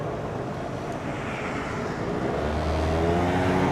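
Congested road traffic in the Philippines, a steady wash of passing car noise that swells slightly toward the end as a nearer vehicle's low engine hum rises, with no voices.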